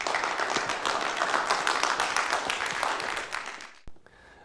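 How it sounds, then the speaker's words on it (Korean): A church congregation at Sunday worship breaks into sustained applause for the senior pastor, a dense wash of many hands clapping that fades away, followed by a brief sharp knock. "우리 목사님 나오실 때에 큰 박수로 환영하시겠습니다"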